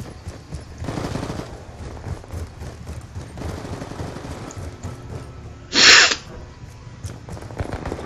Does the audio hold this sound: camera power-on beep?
no